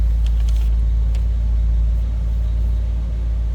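A 1956 DeSoto Firedome with a 330 Hemi V8 idles just after a cold start, giving a loud, steady low rumble close by with a few faint clicks near the start and no talking.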